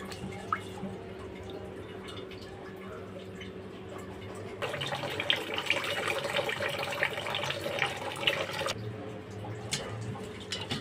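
Rice grains swished and rinsed in a bowl of water, steady wet sloshing with drips that grows louder midway, then settles, a low background hum underneath and no talking.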